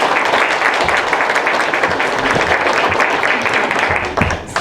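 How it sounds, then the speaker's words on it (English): An audience at a youth graduation ceremony applauds prize-winning students, loud close clapping with distinct individual claps audible and a brief dip near the end. "Let's give them a round of applause"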